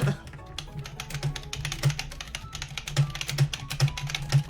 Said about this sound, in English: just typing to him here